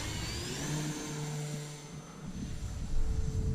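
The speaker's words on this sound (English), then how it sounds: "Going to take the turbo timber up" An E-flite Timber Turbo RC plane taking off from a cow pasture, its motor a steady mid-pitched drone that swells toward the end, with light wind noise.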